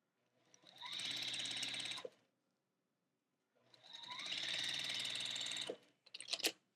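A sewing machine stitches quilt block fabric in two steady bursts of rapid mechanical whirring separated by a short pause, then a few quick clicks as the thread is cut. No one speaks.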